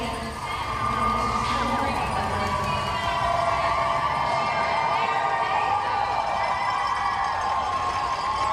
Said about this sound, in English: So from the gun and the applause